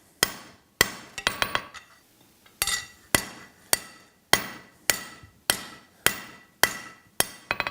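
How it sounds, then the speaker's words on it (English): The flat face of a hammer strikes hot steel while forging a hatchet, ringing blows landing close in a steady rhythm about every half second, with a brief flurry of quick taps between and no voices. "I'm on the flat side of my hammer now. Just trying to smooth it out here, bring that taper back some."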